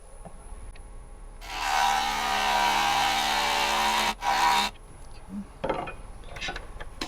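Power tool cutting into a driftwood burl to thin its walls, a loud sustained whirring grind of about three seconds that briefly breaks off and resumes, then stops, leaving a few faint knocks and scrapes.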